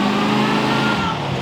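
Engine of the Batman Tumbler Batmobile revs loud and close in a brief, steady throaty roar that eases slightly toward the end.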